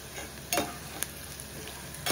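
Curry leaves dropped into hot frying oil for a dry fish and bottle gourd curry tempering, with a steady low sizzle and a few sharp crackling bursts and stirring clinks close by.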